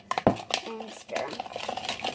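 A spoon stirs a homemade slime mixture containing a teaspoon of borax, giving a few close, soft scraping clinks against the container with a louder knock near the start, under a quiet murmur of voice.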